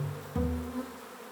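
Honey bees buzz close by in a steady drone, one bee's pitch sliding abruptly as it flies past, loud at first and then thinning to a quieter hum.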